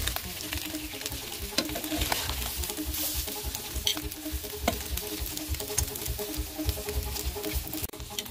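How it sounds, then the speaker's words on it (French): A fish fillet frying in butter over medium heat, crackling with a dense, steady sizzle that stays loud and close from start to finish. "je vais frire le poisson avec du beurre"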